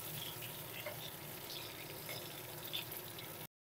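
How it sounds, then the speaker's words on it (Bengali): Pointed gourd fries slowly over a low gas flame in a pan, a quiet, steady sizzle with faint scraping as the pieces are turned, fading abruptly to silence at the end. "পটলটা উল্টে পাল্টে ভেজে নেব, একদিকটা ভাজা হয়ে গেছে।"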